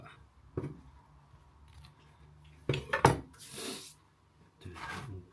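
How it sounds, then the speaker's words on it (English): A bread knife saws through cooked food from a pizza oven in a few separate bursts of rasping strokes, with light knocks against a board or plate between them, close and fairly quiet. "I know I'm doing this with a bread knife"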